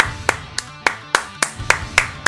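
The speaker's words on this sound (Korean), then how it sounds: "박수 한 번씩 또 부탁드립니다" Sparse handclaps ring out at a steady, unhurried pace, about nine sharp slaps, close and distinct with quiet between them, during a Naruto Storm 4 PS4 tournament broadcast.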